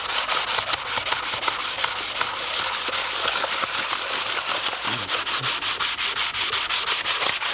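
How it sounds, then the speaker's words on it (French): A sanding block with oiled sandpaper rubs back and forth over an engine cylinder head from a BMW X1 123d, a close, loud, rhythmic scraping of quick even strokes throughout. "j'enduis ma feuille d'huile. Et après je commence à frotter. Alors j'utilise une cale à poncer, histoire de bien poncer à plat."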